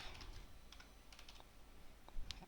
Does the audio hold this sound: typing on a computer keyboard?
yes